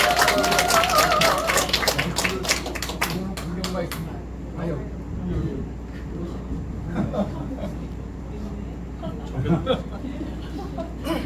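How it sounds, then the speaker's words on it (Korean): Audience claps to welcome a speaker at a Korean political party members' day event, a burst of dense clapping in the first few seconds that quickly thins into scattered claps under room noise and murmuring voices. "여러분 큰 박수로 환영해 주시기 바랍니다."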